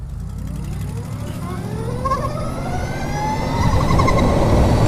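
A Harley-Davidson LiveWire electric motorcycle accelerates at half throttle, its motor whine rising steadily in pitch over road and wind rumble and growing louder toward the end.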